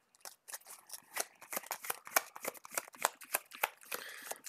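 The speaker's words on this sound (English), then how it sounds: "Shuffling our player deck a couple times." A player deck for the Marvel Champions card game is shuffled several times at a tabletop, making quick, crisp riffling and snapping bursts in a steady, busy rhythm that sound close and moderately loud.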